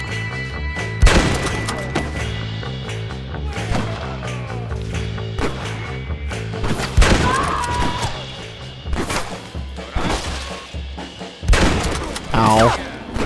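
Gunfire from a strong gun in Red Dead Redemption on PS3, with repeated loud shots and thuds over layered game music and effects, some blasts hitting hard across the thirteen seconds.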